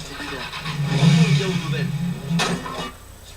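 A motorbike in the video game Watch Dogs starts and revs with a steady engine drone. The drone swells briefly near the end, and a voice talks over it.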